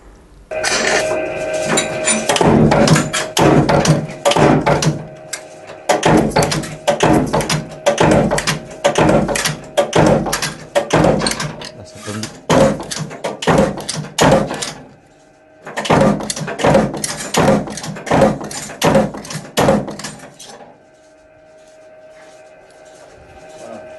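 A press in an accordion factory cuts and punches aluminium sheets, producing loud, rapid metallic thumps and clanks in rhythmic bursts with brief pauses between runs.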